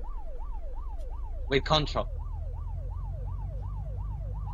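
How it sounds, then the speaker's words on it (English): A police car siren in the video game Unturned wails in a steady rising-and-falling pattern over a constant low engine rumble, with a brief burst of talk partway through. "How do I turn on the siren?"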